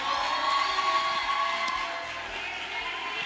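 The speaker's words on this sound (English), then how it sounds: "Can we please give Manana a round of applause?" A summit audience at a community radio and performing arts event applauds and cheers for a performer, a dense steady wash of clapping and whoops heard from within the crowd, with no pauses over the few seconds.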